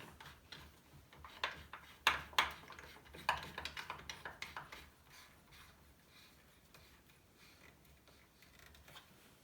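A workpiece being clamped down on a DeWalt DWS773 mitre saw: a quick run of sharp mechanical clicks and ratcheting ticks, loudest early, then fading into quiet room noise. No talking.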